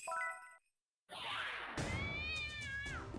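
A cat in a video game gives short, clear meows, first a quick tonal cry, then after a brief silence a longer, wavering meow over a background hum, with no voices.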